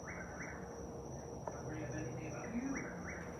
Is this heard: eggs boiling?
no